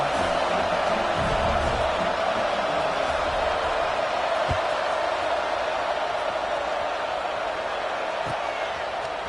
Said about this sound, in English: boy, did that last drive quiet this crowd